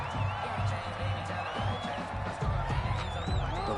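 Stadium crowd noise from a Madden football video game fills the clip with a steady murmur, whoops and whistles, while a commentator talks over it.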